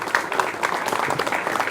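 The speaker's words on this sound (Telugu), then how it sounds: "దానికి నిర్ణయం తీసుకున్న మరి గుంటి నాగరాజు గారికి ఒక్కసారి గట్టిగా చప్పట్ల ద్వారా," An audience claps at a goldsmiths' association swearing-in ceremony in Mangalagiri, giving a short burst of dense, close applause with no one speaking over it.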